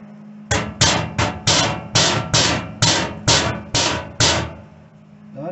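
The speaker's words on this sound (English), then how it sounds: "All right, I'm gonna try to hammer." Ten sharp metallic hammer strikes ring out in a steady rhythm, each blow loud and close with a brief ringing decay, as metal is hammered straight during welding work on a Ford Ranger.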